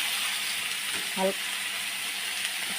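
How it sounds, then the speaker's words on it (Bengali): Young jackfruit pieces frying lightly in a pan, giving a steady soft broadband sizzle throughout with one brief tonal clink near the middle; no speech. "একটু ইঁচড়টাও হালকা হালকা করে ভেজে নেব"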